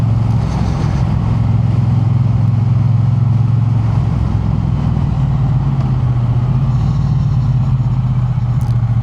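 A motorcycle engine rumbles steadily throughout while the bike is ridden, a continuous low mid-range drone with wind-like noise layered on top, loud and close with no talking.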